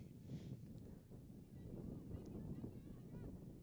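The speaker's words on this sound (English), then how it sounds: "it says wind gusts are up to nearly 30 miles an hour" Strong wind gusts buffet the microphone at an outdoor women's college soccer game, Tufts vs. Trinity, a steady low rumble that swells and dips throughout with faint talk beneath.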